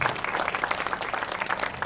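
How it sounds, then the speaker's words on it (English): A crowd applauding steadily at a groundbreaking ceremony, dense clapping from many hands filling the whole stretch at a fairly even loudness, no voices standing out. "Give them a big round of applause."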